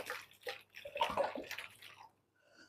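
Water poured into containers to measure out one litre each, splashing and filling in short bursts over a couple of seconds, moderately close, then trailing off to near silence.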